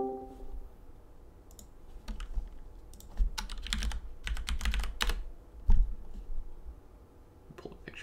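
Typing on a computer keyboard to enter a web search, with bursts of close clicking keystrokes in irregular rhythm and short pauses between them.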